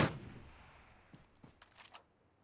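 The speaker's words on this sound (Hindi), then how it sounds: "अरे गोलियां तो ज्यादा आ रही हैं" One sharp gunshot in the video game PUBG opens the clip and decays quickly, followed by a few faint, scattered distant shots.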